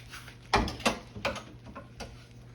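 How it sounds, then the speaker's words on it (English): Eggs for eggs Benedict are set into a pan: several sharp, close knocks and clicks, the first two loudest, then softer taps tapering off against a quiet background. "Put our eggs in here."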